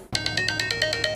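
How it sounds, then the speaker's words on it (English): A phone rings from an incoming robocall: a rapid, evenly spaced series of about ten bright electronic ringtone pulses, loud and close with no voices. "Annoying robocalls, ringing you day and night"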